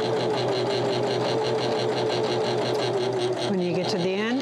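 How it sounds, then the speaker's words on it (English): A Husqvarna Viking Emerald 116 sewing machine runs steadily through fabric, its motor and needle humming in a continuous rhythmic buzz that shifts pitch near the end as it reverses into a back stitch. "Then if you want to put a back stitch in, push this all the way down, back stitch a little bit, making sure you don't stitch off the edge of your fabric"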